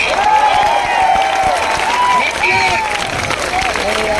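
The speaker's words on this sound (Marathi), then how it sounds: "जोरात टाळ्या वाजून इथून सांगून द्या।" A crowd of protesting students applauds loudly, a dense sustained clapping with some cheering mixed in, heard up close and without a break.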